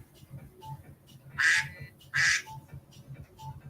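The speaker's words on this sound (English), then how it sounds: "I turned it off and it started quacking at me" Two short, loud duck-like quacking alerts from an iPhone 6 reminder, about a second apart, over a low steady background hum.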